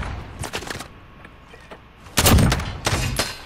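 Video game gunfire in a search and destroy match, with a short burst of shots early on, then quiet, then heavy loud close shots and a booming volley, no talk.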